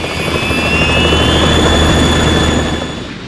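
A Harrier jet from Metal Gear Solid 2 roars with a sustained, loud turbine rush and a high whine, fading slightly at the end.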